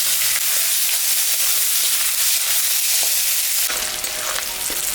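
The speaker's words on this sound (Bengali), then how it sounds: "কাটা পেঁয়াজ দিয়ে দিলাম।" Chopped onion sizzles steadily in hot oil in a pan along with dried chillies, cumin and bay leaves, a constant close crackling hiss with brief stirring scrapes, no talking.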